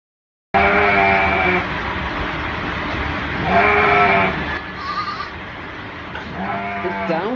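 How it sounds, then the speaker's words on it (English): Goats bleat in loud, wavering calls, three long cries spread across the stretch, with a steady noisy background between them. "They sound like goats."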